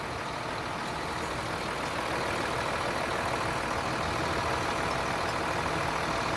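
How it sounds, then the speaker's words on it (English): A truck engine idles after a transmission service, a steady broadband rumble that continues evenly without a break. "We're going to start the truck, make sure that we don't have any leaks."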